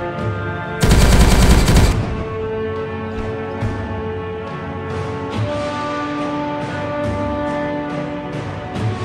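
Automatic gunfire in the strategy game Warhammer 40K Regicide, a loud dense burst lasting about a second, then scattered lighter shots and impacts over sustained musical tones.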